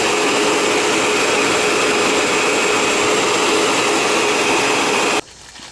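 A vacuum cleaner runs loud and steady at close range while ball joints are replaced on a 2010 Jeep Wrangler, its dense roar holding level before cutting off abruptly near the end.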